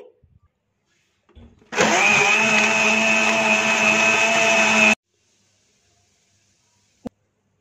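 A kitchen blender whirs loudly and steadily for about three seconds, blending mint lemonade with lemon juice, starting and stopping abruptly with near silence on either side.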